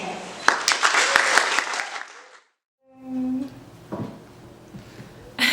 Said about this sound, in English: Please join me in giving a warm round of applause to the members of Portrait.